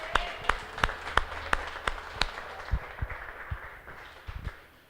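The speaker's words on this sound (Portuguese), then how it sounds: "Uma salva de palmas ao Espírito Santo" Church congregation clapping: a short run of sharp, evenly spaced claps up close, then thinning into scattered, softer claps and murmur.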